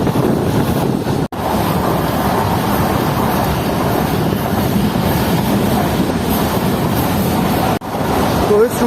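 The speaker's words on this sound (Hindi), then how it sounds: "इतनी स्पीड में ट्रेन को चलता हुआ देखकर काफ़ी अच्छा लग रहा है" The Shah Latif Express runs at speed on the Hyderabad–Mirpurkhas line, a steady loud rumble of wheels and rushing wind buffeting the microphone, dipping briefly twice as the passenger train rolls on.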